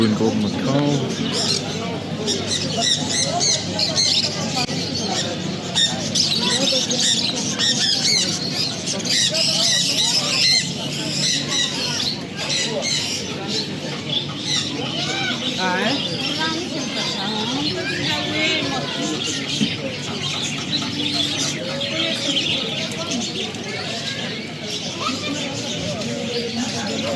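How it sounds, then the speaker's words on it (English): A busy chorus of parrots, including a blue and gold macaw, and other birds chatters and squawks continuously nearby in the Souq Waqif market in Doha, with people talking over the noise. "Blue and gold Macau."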